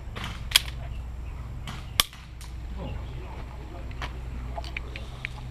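Airsoft guns firing during an outdoor skirmish, two sharp close shots a second apart followed by fainter distant snaps, with voices talking in the background.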